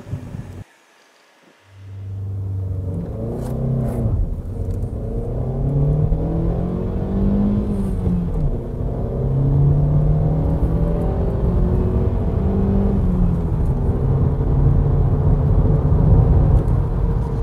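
A 2015 Skoda Rapid Spaceback's 1.2 TSI four-cylinder, 105 hp engine starts up and drones steadily, revving higher and rising in pitch through the gears, noisy at high revs, loud and close throughout.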